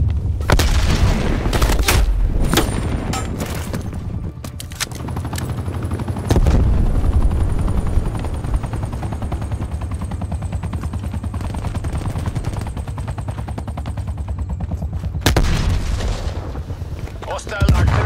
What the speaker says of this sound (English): Oh, incoming artillery.